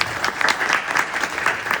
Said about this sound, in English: we have to give a big applause apart from all the things